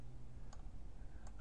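Two light, quiet mouse clicks spaced about a second apart while working in an Excel spreadsheet, set against a steady low background hum with no voices.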